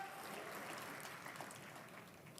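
A church congregation applauds during a worship service, an even, continuous wash of clapping heard at a distance and fairly soft throughout the short stretch.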